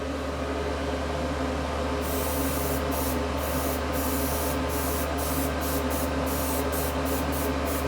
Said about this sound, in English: And lightly mist them again.